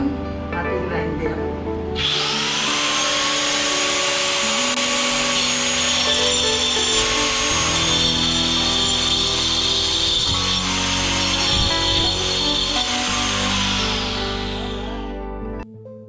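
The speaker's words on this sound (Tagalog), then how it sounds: "Tatabasan muna natin to para ito mailagay na natin dito. Gamit natin ang ating grinder." An angle grinder cuts through a steel metal stud during drywall framing for a TV console, giving a loud, steady high-pitched whine that runs for about fourteen seconds before spinning down, with occasional low background noise beneath.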